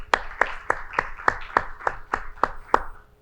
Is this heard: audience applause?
yes